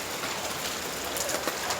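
Heavy rain pours down in a dense, continuous hiss of drops striking surfaces nearby, steady and loud with no voices.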